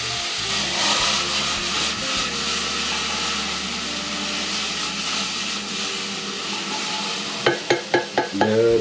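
Two garlic cloves drop into a pot of sizzling vegetables for a one-pot green lentil soup, with a steady frying hiss and stirring scrapes, then a few quick sharp knocks near the end.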